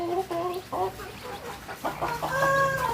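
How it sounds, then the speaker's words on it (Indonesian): Newborn chicks on a farm peep in short, high, repeated calls, with clucking adult fowl close by and someone talking briefly. "ayam-ayam saya nih baru lahir."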